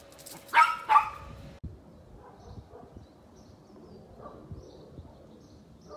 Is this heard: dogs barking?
yes